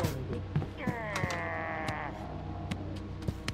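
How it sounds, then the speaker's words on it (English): Goats bleating inside the horror video game Devour, a wavering bleat over steady game ambience and scattered clicks, with a voice murmuring low underneath. "There's goats in here."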